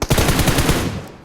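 A loud burst of rapid automatic gunfire in the video game PUBG Mobile, with several quick shots that fade into a short, dying tail.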